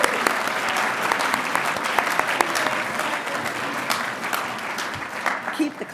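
Sustained applause from a graduation audience honoring pro bono students, steady dense clapping throughout with a few sharper claps standing out and faint voices mixed in.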